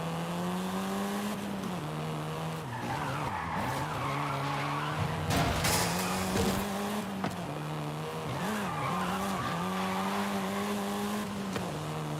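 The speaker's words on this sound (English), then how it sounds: "This version is the Volkswagen Golf R," A Volkswagen Golf R in Forza Horizon 5 drives hard, its engine holding a steady high drone while tires squeal and skid through corners, with the pitch dipping and climbing on each turn, loud and continuous throughout.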